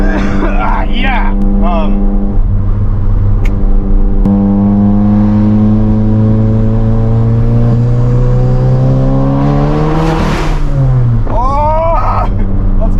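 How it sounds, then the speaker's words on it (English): Turbocharged VW Golf MK7 GTI fitted with an EQT IS38 turbo accelerating hard from inside the car, engine drone rising steadily through a gear with shifts and whooshes, loud and close, with voices over it. "I hope you guys actually get turbo noises"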